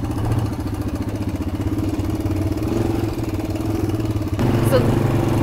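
Motorcycle engine idling steadily in first gear as the clutch is let out, a continuous close low chug with a brief shift near the end; a voice talks over it.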